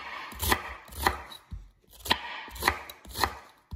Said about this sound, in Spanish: Aquí ya estamos picando nuestro repollo